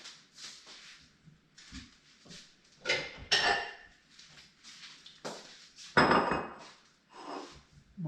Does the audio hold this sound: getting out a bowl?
yes